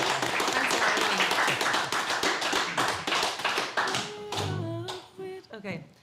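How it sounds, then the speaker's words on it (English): Dense, energetic audience clapping at a folk singing session fades out over several seconds, giving way to a few voices and a brief sung line near the end. "One more round of applause, and good night, everybody."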